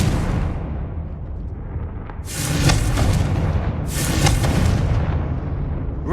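Two loud, rumbling fire-blast explosions from the Confringo spell in Hogwarts Legacy on PS5, each a broad boom with crackling tail, following a deep low rumble, close and without talk.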